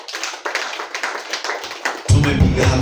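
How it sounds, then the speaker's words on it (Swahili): A church congregation claps together, starting as scattered taps and swelling into loud, dense applause in the final second, with no talk over it. "Naomba tujipigie makofi."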